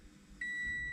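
A Scion FR-S turning its ignition on sounds one clear electronic beep, which starts abruptly and holds as a steady tone over a faint low hum inside the car.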